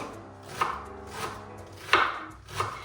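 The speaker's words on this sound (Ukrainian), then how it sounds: "Я її теж дрібненько шинкую." Green onion finely chopped with a knife on a cutting board, four distinct close knocks spaced unevenly, quiet in between, no talking.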